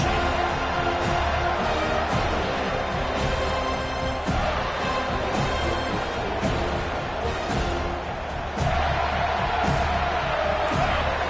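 Stadium crowd noise from the Madden 24 football video game, a continuous loud roar of cheering with occasional sharp hits and swells, under a faint layer of game sound.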